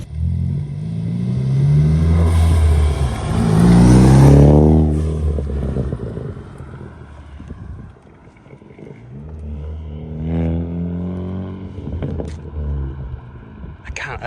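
Ford Focus ST fitted with an Injen cold air intake revs hard, the engine note climbing and falling in strong rising sweeps, close and loud, then a second rev later; people talk over it between pulls.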